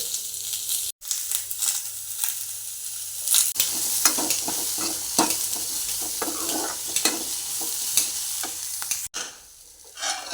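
Onion and garlic frying in a pan, a close, continuous sizzle broken by stirring scrapes and occasional clicks, with brief drops to near quiet at the start and near the end.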